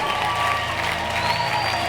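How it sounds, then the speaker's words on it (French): Worshippers applauding at a prayer marathon, a continuous wash of clapping from the gathering with a sustained tone running beneath it, steady and fairly loud across the moment. "applaudis très bien pour le roi des rois"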